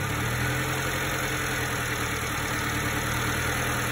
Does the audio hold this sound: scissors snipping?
no